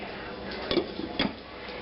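A lid set onto a pot of simmering dumplings in egg drop soup, giving two close metallic clanks about half a second apart over a quiet background.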